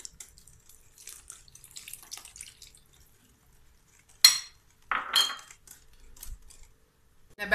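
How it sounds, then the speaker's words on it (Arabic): Cold milk is poured into basbousa batter of oil, eggs and sugar, a short liquid splash and trickle in the middle, surrounded by light clinks of utensils and bowls, with no talking. "نضيفو الحليب، يسمى هنا بدينا بالسوائل."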